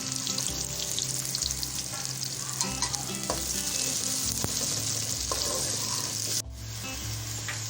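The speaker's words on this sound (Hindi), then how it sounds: "लाइट ब्राउन करेंगे प्याज को।" Finely chopped onions fry in oil until light brown for a Saudi-style chicken mandi, a loud continuous close sizzle with frequent stirring scrapes, alone without talk.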